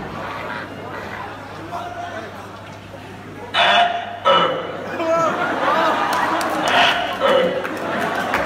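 A mimic's voice imitates big bullfrogs croaking in the monsoon rains on a college stage, delivering bursts of throaty, gurgling croaks through an amplified hall, with the audience murmuring in the background.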